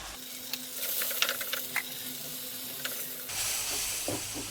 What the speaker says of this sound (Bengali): পেঁয়াজ দিয়ে দিলাম। পেঁয়াজগুলো এখন ভেজে নেব।